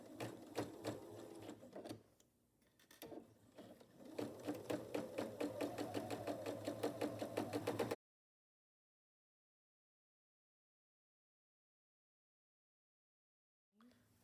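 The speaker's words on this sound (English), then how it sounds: "this is a great project for a beginner because you get a lot of practice just sewing a long straight seam" A sewing machine stitching a long straight pillowcase seam, a rapid steady mechanical chatter that pauses briefly and then runs continuously before stopping, heard up close.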